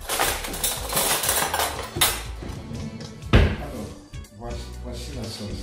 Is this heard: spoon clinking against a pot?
yes